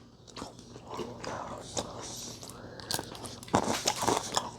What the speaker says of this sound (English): The frosted cookies on top. I like that nice crunch to it.